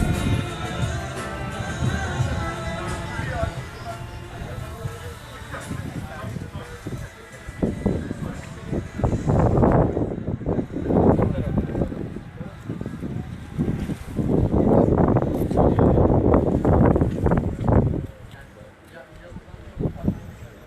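Gusty seaside wind near a castle on a cold, breezy shore, roaring and buffeting the microphone in strong low rumbling surges that swell and fade over about twenty seconds.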